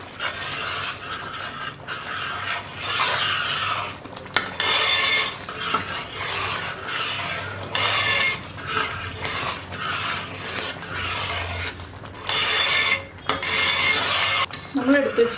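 A spoon stirs and scrapes around a pot of Kerala parippu payasam, a lentil pudding, with repeated metallic clinks and rasping scrapes against the vessel, close and steady with brief pauses.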